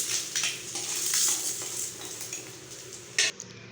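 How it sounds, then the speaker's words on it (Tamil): Fried eggs being lifted from a kadai and moved onto another plate for an egg pepper fry, metal spatula scraping and clinking against the pan over a faint sizzle, close, with a sharp clank near the end. "இப்போ நம்ம எடுத்து வேறு பிளேட்டுக்கு மாற்றிக்கலாம்."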